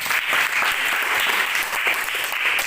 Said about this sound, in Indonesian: Ya, semua kita berikan aplaus dulu.